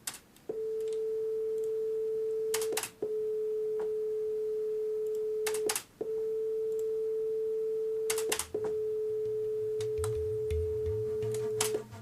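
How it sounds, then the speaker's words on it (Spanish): A steady pure tone at 432 Hz, played for comparison with 440 Hz, sounds in several long stretches, each separated by brief clicks and short breaks, clean and unwavering. "Así es como suenan 432 hercios a diferencia de 440."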